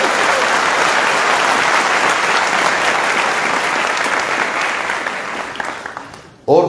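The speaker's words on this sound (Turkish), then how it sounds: "Yani alkışlayacaksanız tam alkışlayın." A conference hall audience at a poetry and conversation event gives full, dense applause that holds steady, then fades toward the end before a sudden short noise cuts in.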